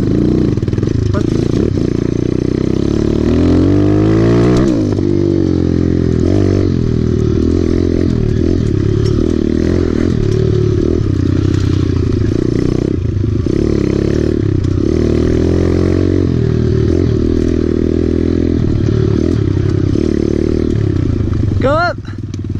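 A Kawasaki KLX 140L dirt bike rides uphill on its first outing, its engine loud and close throughout, droning and revving steadily with shifting pitch, and a brief rising rev near the end.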